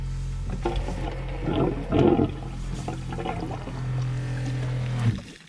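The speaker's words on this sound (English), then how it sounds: "So if I open this, the pump should kick in." An off-grid cabin's water pump kicks in at the tank and settles into a steady, close mechanical hum, with water rushing and splashing over it and no speech.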